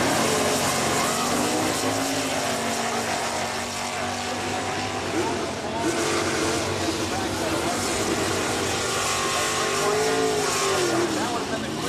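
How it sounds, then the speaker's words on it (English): Hemi-powered Dodge drag race car on the strip at an NHRA muscle Mopar event, a loud sustained engine roar with shifting pitch over crowd and track ambience, a commentator's voice faintly underneath. "Big back tires stick that Hemi motor to the racetrack."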